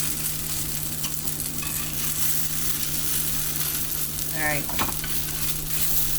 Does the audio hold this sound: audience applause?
no